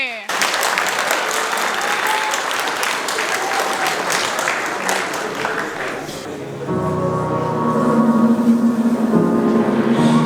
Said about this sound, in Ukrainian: Підтримуємо цих красунь оплесками.